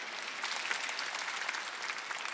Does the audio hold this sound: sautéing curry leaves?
no